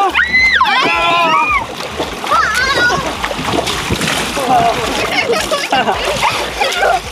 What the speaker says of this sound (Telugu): ఇప్పుడైతే నేనైతే స్నానం అయితే చేస్తున్నాను